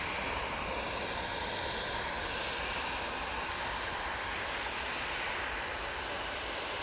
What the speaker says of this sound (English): There go the Easyjet